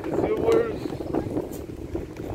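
Gusty wind buffets the microphone with a low rumble while a person talks over it outdoors.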